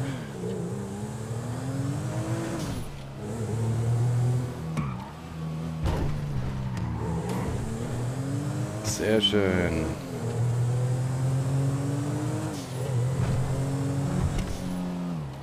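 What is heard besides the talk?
Audi Quattro car driving in the video game GTA 5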